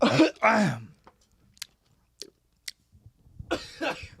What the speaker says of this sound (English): make it so you're not coughing so violently